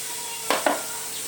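A spoon stirs chili, turmeric and asafoetida in a pan of sizzling oil, with a steady low sizzle broken by two brief scraping strokes close by.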